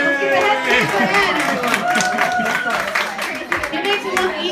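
Audience at a parrot show claps for a staff member, scattered hand claps mixed with crowd murmur and bird calls, fairly close and busy throughout.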